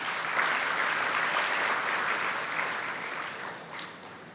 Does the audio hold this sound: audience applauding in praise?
yes